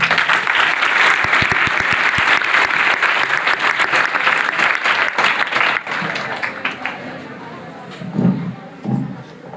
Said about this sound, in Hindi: उतनी बढ़िया ताली तो बजी नहीं।